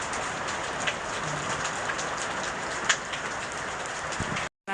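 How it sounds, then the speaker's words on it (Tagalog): Heavy rain pours steadily during a typhoon, a dense, even hiss of drops on surfaces with occasional sharper splashes, continuous until a brief cut near the end. "Yan po ng ulan dito."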